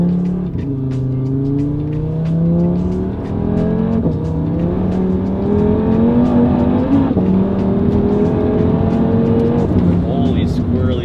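An Audi RS3 with a 034 Motorsport exhaust revs and drives, a loud, close five-cylinder drone rising and falling through gear changes, with pops along the way.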